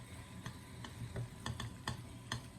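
A utensil stirs melting chocolate in a double boiler, tapping and scraping the bowl in a loose, repeated rhythm close by over a low background hum.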